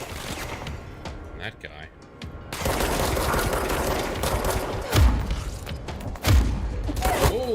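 Rapid bursts of gunfire from a shootout in the video game Control, played on PC, rattling on continuously with two heavier impacts, under a voice talking over the action.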